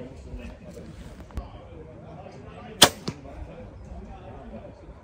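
An arrow leaves a compound bow with a sharp snap and thuds into its target moments later, a brief crisp release followed by a softer hit, amid outdoor noise at a speed check during a 3D archery tournament.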